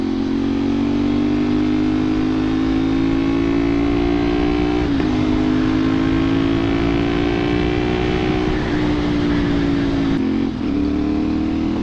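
A 450SR motorcycle cruising a Cagayan de Oro highway at night, its engine droning loud and steady with small shifts in pitch as the throttle changes, heard alone.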